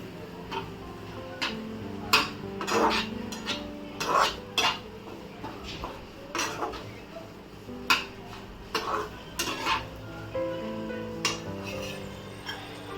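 Garlic and onion being stirred in a pan, with a spoon scraping and clinking against the metal in repeated, uneven strokes that stand out over a quiet background, with no talking.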